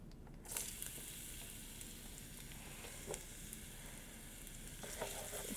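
Garlic dropped into hot oil gives a steady, fairly quiet sizzle that starts abruptly and carries on throughout, broken by a few light knocks of a stirring utensil.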